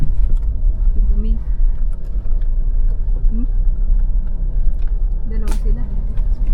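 A Mitsubishi Montero Sport with a manual transmission climbing steep hills, its engine and road noise forming a steady low rumble inside the cabin while people chat over it.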